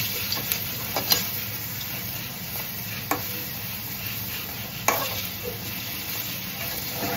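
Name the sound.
pointed gourd fritters frying in white oil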